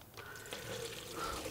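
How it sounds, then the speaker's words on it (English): Fuel drained from a Volvo Penta marine engine fuel filter splashes and trickles into a bucket, a steady close pour with a brief gurgle partway through. "dump it into a bucket"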